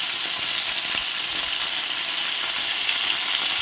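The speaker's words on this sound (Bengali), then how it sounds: "এবার আমি এই তেলের মধ্যে কেটে রাখা ফুলকপিগুলো ভেজে নেব" Cut cauliflower fries in hot oil, giving a steady, close, crackling sizzle that runs evenly throughout, with no talking.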